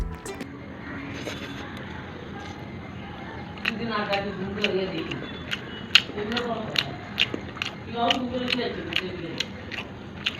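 Someone chews a mouthful of mutton pulao, fluffy rice with tender mutton pieces, making close, soft clicking and smacking bites under a person talking.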